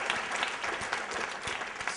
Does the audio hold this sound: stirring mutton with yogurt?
no